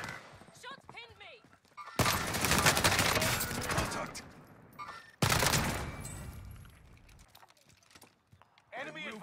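Warzone gunfire in two dense, loud bursts of rapid overlapping shots, each trailing off into quieter pops, with voices talking before and after.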